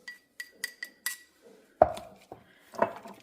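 A utensil mixes beaten egg into cooked steamed rice in a bowl: a run of light, bright clinks against the bowl, then a louder knock and a few scraping taps.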